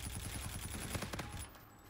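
Rapid automatic gunfire in an Infinite Warfare multiplayer match, a steady string of close, loud shots for about a second and a half before cutting off into quieter game ambience.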